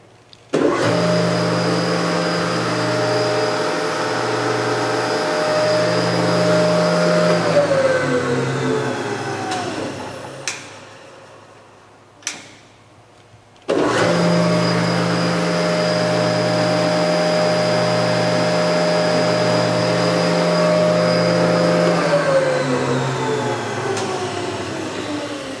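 A Powermatic No 27 single-phase 5 hp 230 V shaper with a power feed runs with a steady, fairly quiet motor hum, spins down to near silence with a couple of small knocks, then starts up and runs again.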